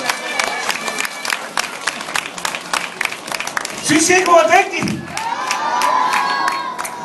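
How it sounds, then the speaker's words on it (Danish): Crowd at a stage show in Lalandia breaks into loud clapping and cheering for a three-year-old girl, a burst of applause rising over a presenter's talk, with speech continuing before and after. "så nu kan vi godt klappe rigtig højt af Laura på kun 3 år"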